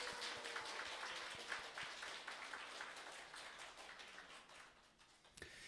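Church congregation at a women's fellowship gathering applauding to welcome the pastor's wife, a sustained patter of many hands clapping that fades gradually before a couple of sharp final taps.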